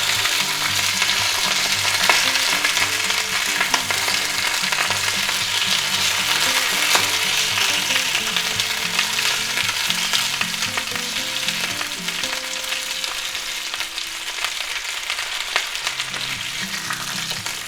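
Potatoes, onions and sausage fry in oil with a loud, continuous sizzle, while a utensil stirs and scrapes through them close by.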